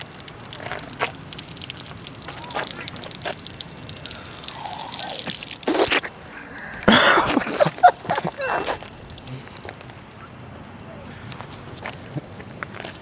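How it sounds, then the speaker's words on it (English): Water from a fountain in Fukuoka splashes and trickles unevenly with scattered drips and bursts of gushing, mixed with footsteps and people talking nearby. "check out this water fountain we found here"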